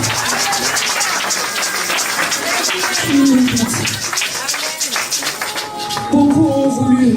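A church congregation claps in rhythmic, crisp strokes, many hands together at a fairly close distance, with a voice speaking and low sung or spoken tones rising over the clapping at times.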